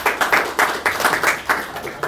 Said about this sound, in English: You guys can applaud, it's okay.